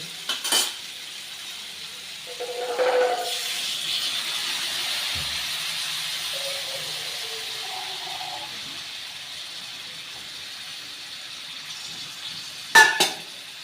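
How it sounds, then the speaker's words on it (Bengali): Water poured into a pan of frying green tomato chorchori spiced with turmeric and salt sets off a steady steamy sizzle that hisses for several seconds, with a few utensil clinks at the start and end. "এবার আমি প্রয়োজন মতো জল দিয়ে দেবো"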